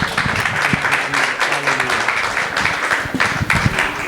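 A church congregation claps loudly and steadily throughout, a dense, continuous wash of hands with brief voices mixed in underneath.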